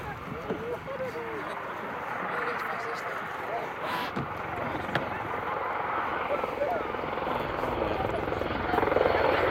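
An AgustaWestland Merlin HM2 military helicopter's rotor thrums continuously nearby at an air show, a broad steady wash that grows slightly louder toward the end.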